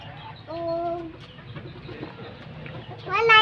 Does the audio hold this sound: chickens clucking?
yes